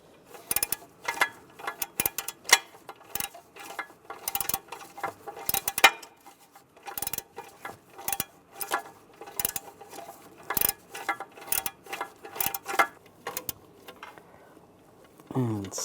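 Bolts on a Volkswagen Beetle secondary air injection exhaust valve get tightened by hand, producing a long run of quick, close ratchet clicks in irregular short bursts with small knocks between them.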